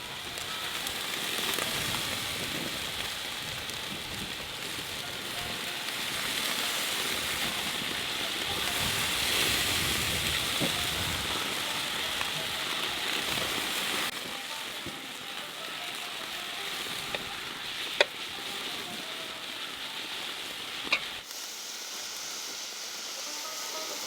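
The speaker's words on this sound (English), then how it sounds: "now I'm gonna start adding the mlukhieh little by little and saute it" Mlukhieh leaves being added little by little to a hot pan and sautéed, a steady close sizzle and crackle with occasional small pops that goes on for about twenty seconds.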